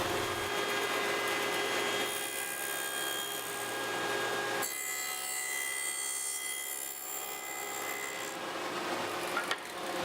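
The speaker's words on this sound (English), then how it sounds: "I set up the fence at the 2-inch mark so that I can start cutting the lap joints" A table saw cuts wooden lap joints for a bar-height Adirondack chair, a close, sustained whine with harmonic hum that shifts in pitch and load partway through as the blade passes through the wood.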